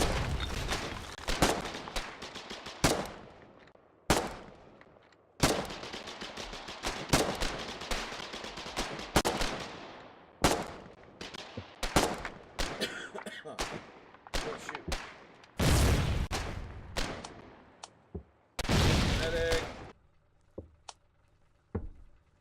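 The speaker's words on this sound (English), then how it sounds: "We suppressed them as well as we could, but they had effective cover and were able to return more intense suppressive fire" Gunfire in the war video game Foxhole: sharp, loud shots and rapid bursts, some single cracks and some clustered volleys, spread irregularly across the clip with short quiet gaps between them.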